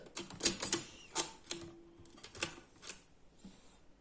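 A Facit mechanical calculating machine clatters through a calculation, giving a series of sharp mechanical clicks and clacks in irregular bursts with a brief whirring stretch, fairly quiet and close with no talk.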